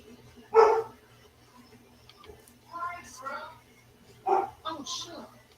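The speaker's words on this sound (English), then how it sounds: "Wonder what Zorro's barking at." A dog indoors gives a few short, separated barks at moderate distance, with quieter vocal sounds and light ticking in between against a quiet room.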